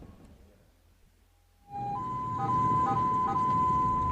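An ambulance siren starts up after a quiet opening, a loud steady tone with wavering notes over engine and road noise, heard from close by.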